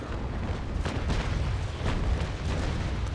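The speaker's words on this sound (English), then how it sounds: "the carronades made completely different sounds when they fire" Carronade cannons firing a broadside in the Naval Action sailing-ship battle game, Niagara against Cerberus: a rolling series of heavy booms over about three seconds with no talking.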